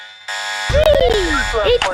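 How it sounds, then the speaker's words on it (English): An alarm goes off in a Roblox video game: a steady, loud electronic buzzing tone that holds throughout, with a person talking over it. "if you find the keycard for the vault and try to take the special milk, then the alarms go off"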